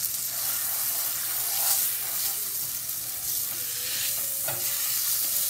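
Steak sears in a hot pan for steak pizzaiola, making a constant close sizzle with a hissing, crackling texture and light scraping, no voices over it.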